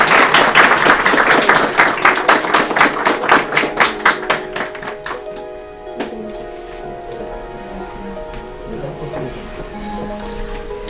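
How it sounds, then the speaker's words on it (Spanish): Audience applause at a school diploma ceremony, starting as a loud, dense burst that settles into rhythmic unison clapping and fades away after about five seconds, leaving quieter room sound with faint tones. "Un aplauso, por favor"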